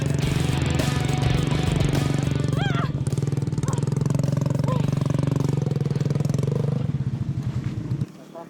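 A motorcycle taxi engine churns on a difficult jungle trail, a steady loud rattling throb close by that runs for about eight seconds before cutting away, with voices talking over it.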